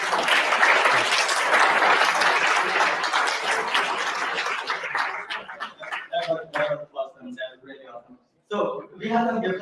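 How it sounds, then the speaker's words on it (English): A conference audience applauds a speaker with loud, dense clapping for about five seconds, then the applause thins and fades as a voice starts talking. "Can we have a huge round of applause for you?"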